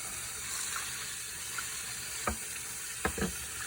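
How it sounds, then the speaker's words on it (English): Water running steadily from a tap as plastic Breville juicer parts, including the lid and mesh filter, are rinsed, with a few small knocks and clatters of the parts against the sink. "Just give it a quick rinse and see how it rinses out."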